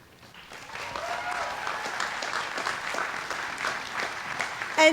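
An audience at a university commencement ceremony claps steadily, a dense wash of applause that swells and holds for several seconds.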